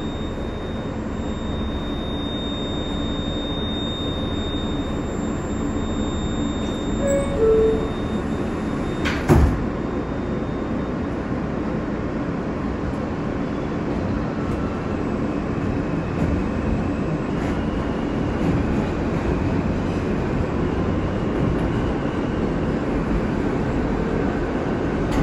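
Steady rumbling roar of an R160A New York subway train in motion on the BMT R line, continuous and loud, with a brief sharp clank partway through.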